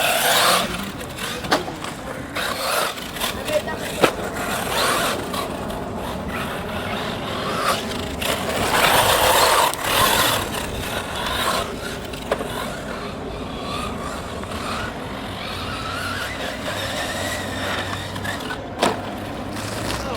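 A Kyosho Inferno MP9 electric RC car runs on a track, its motor whining and surging in bursts with scrapes and clatters of the chassis, some passes louder and nearer than others.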